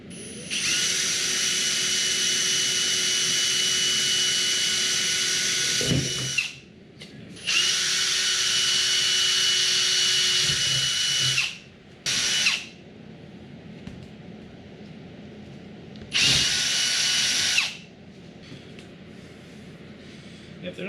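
A power drill whines loudly in long bursts, drilling through the hood of a 1967 Plymouth Barracuda for hood pins, stopping and starting several times, with people talking quietly in the pauses.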